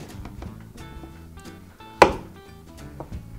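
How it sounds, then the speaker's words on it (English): A knife hacks through the end of a peeled butternut squash, one sharp chop landing on a cutting board amid quieter kitchen background clatter. "We're gonna hack off the tops"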